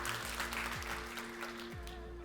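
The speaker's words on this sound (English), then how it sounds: "Can we just give a round of applause" Steady applause from a conference audience, clapping continuously at moderate volume under a faint electronic hum.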